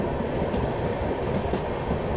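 A train hauled by a WCM 3 electric locomotive, heard on the Sanghamitra Express, gives a continuous loud rolling rumble with faint rhythmic rail clatter throughout and no talking.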